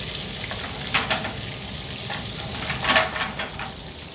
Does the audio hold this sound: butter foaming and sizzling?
yes